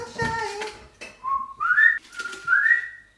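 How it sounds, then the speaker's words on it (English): A person whistles a short tune of a few sliding, held notes, with brief talk and laughter at the start. "You whistling, you never whistle."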